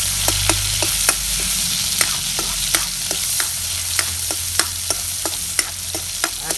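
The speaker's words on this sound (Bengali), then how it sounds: "এই যে এখন আমি এখানে পেঁয়াজ দিয়ে দেব" Onions frying in a pan for a village-style broiler chicken dish hiss with a loud, steady sizzle while a utensil scrapes and stirs in a brisk, regular rhythm, close up with no speech.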